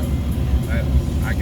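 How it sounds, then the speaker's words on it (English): A truck rumbles past on a South Florida street while the listener waits at a traffic light, its low engine drone steady and close throughout, with talk inside the car. "That's a truck."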